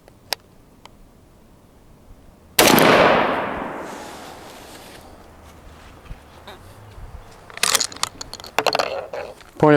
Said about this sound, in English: this will be our third shot to confirm our point of aim